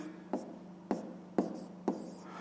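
Pen or chalk marks for a math inequality being written, four distinct scratchy strokes spaced about half a second apart over a steady low hum, with no talking.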